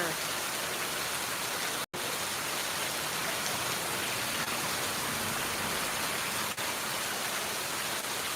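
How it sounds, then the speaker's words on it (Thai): Steady, dense rain pours down continuously on a garden, a broad hiss of drops on leaves and ground, with one brief dropout near the start. "บรรยากาศตอนฝนตกค่ะ"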